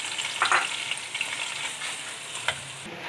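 Onions sizzle and fry in hot ghee for mutton karahi, a steady crackling hiss with a few louder spatters and stirring scrapes, heard alone without talk.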